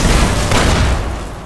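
A frag grenade explodes in Fallout: New Vegas Old World Blues, a loud broadband boom with a rumbling decay that stays dense and heavy across the whole moment, with no voice over it.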